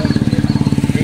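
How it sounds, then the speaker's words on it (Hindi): A heavy motorcycle from 2004, old but in good running condition, idles close by with a steady, loping exhaust thump, even pulses repeating about every tenth of a second. "साइलेंसर की फीलिंग है, भाई, हैवी बाइक है"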